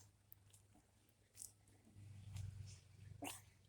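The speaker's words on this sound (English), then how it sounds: "My dog's being noisy again." A dog in a home garden barks a few times at a distance, faint and intermittent against quiet outdoor background.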